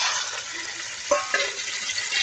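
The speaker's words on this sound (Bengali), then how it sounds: "তেলের ভিতর মাংস ছেড়ে দিচ্ছি।" Chicken breast meat hits hot oil in a wok with onion, garlic and chili, giving a loud, steady sizzle and a couple of sharp stirring clinks.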